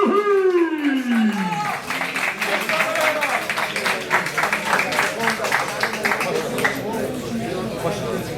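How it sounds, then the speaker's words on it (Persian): A fight crowd applauds both fighters with sustained, dense clapping and cheering, while a loud voice talks over the noise at the start. "هر دو فایتر رو تشویق کنید. آقا تشویق کنید."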